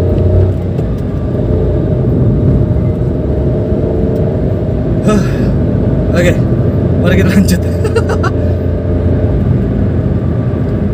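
A 2014 Nissan March 1.2 L with manual gearbox cruises on an out-of-town road near Subang, its steady engine and road rumble loud and continuous inside the cabin while someone talks briefly over it.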